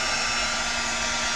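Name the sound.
heat gun drying chalk paste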